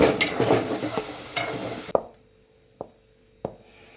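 A milk-powder doodh peda mixture cooking in ghee and stirred in a pan: about two seconds of busy scraping and sizzling, then three sharp taps of a spoon against the pan.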